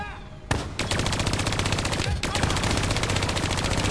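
Sustained rapid automatic gunfire fills a Black Ops 3 campaign battle, loud and close. Dense bursts rattle almost continuously after a short pause at the start.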